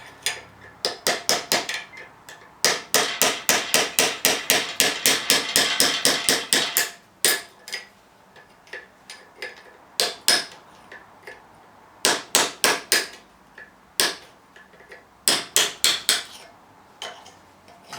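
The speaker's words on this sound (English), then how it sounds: "I've cut most of the material off of the nut, so I'm hoping I can just crack it." A hammer strikes a seized, slotted nut on a Riderite air bag fitting to crack it. Loud, close metallic blows come in rapid runs and shorter clusters with brief pauses between them, and no talk.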